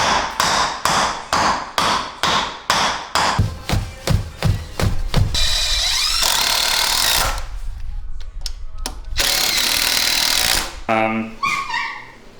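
Heavy hammer blows drive a jack post into place under a sagging floor in a steady rhythm, then a long stretch of loud grinding machine noise, with a few more sharp knocks near the end.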